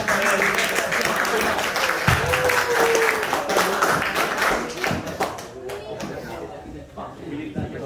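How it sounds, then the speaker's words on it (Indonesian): A school student council election debate audience gives the three candidates a dense, sustained round of applause, loud and continuous at first, then thinning into scattered claps as it fades. "Berikan tepuk tangan kepada yang ketiga calon yang ada di hadapan kita."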